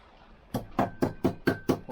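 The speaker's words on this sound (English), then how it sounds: "pliers and just knock it through." Six sharp metallic knocks in a steady rhythm as a bracket on a Lambretta scooter is tapped through against the mag housing with the end of a pair of pliers, close and fairly loud, following a short quiet pause.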